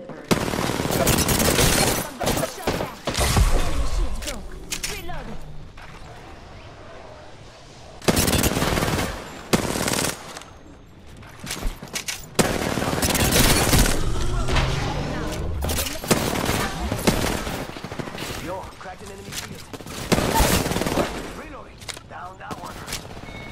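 Apex Legends gunfire rattles in repeated loud automatic bursts separated by short pauses, with a character's voice lines heard between the volleys.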